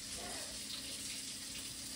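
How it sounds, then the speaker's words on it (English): Hot water runs steadily from a kitchen tap to clean a warm cast iron skillet after cooking peppers and mushrooms, a continuous close splashing hiss with no talk. "We got the water nice and hot."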